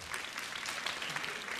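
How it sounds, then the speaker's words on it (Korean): Brief burst of audience clapping at a televised mini concert, a quiet, fairly even patter of many hands lasting under two seconds. "이때쯤 박수 치고"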